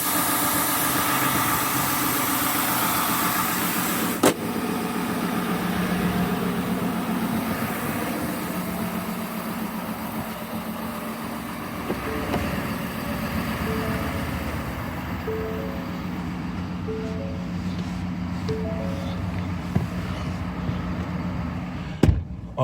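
A 2024 Ford F-250 XLT with a 6.7-liter turbo Power Stroke diesel V8 idles steadily nearby, a continuous low rumble with a faint whine that holds throughout, broken only by a couple of brief clicks.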